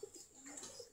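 A pigeon in a coop gives a short, soft coo, faint and close, heard alone for about a second.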